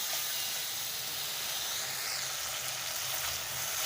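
A pan of spice masala with turmeric fries in oil, a loud continuous sizzle and hiss that holds steady throughout with no talking.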